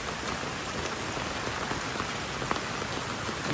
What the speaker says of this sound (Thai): ฝนมันตกค่อนข้างที่จะ แรง